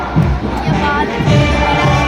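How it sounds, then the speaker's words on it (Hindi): A large crowd at India's 76th Republic Day parade claps and cheers, a loud sustained roar of applause and shouting voices filling the open-air setting, with an announcer's voice over it. "तालियों से एक बार अभिनंदन कीजिए भारत मां के इन रखवालों का"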